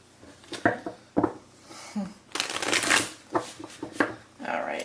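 Close, crisp riffles and flutters of a tarot deck being shuffled, with a longer burst in the middle while a person talks over parts of it.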